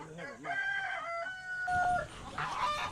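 Farm chickens, with a rooster crowing loudly and close and hens clucking around it in a short busy burst, with no talk.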